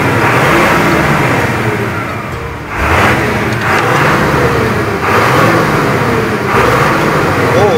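A Fuso truck engine revs hard in repeated surges during a power test on a Sumatra run, loud and close, with people talking over the roar.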